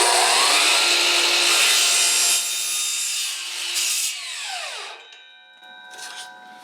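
A miter saw cuts through plastic sewage pipe during a chicken coop build, with a loud whining blade that spins down after the cut and a brief second burst at the end.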